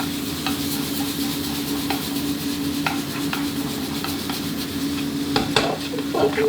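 Pork and egg stir-fried in a pan for instant noodles, heard as a steady low sizzle with repeated scraping and clinking of a spatula against metal, growing busier toward the end.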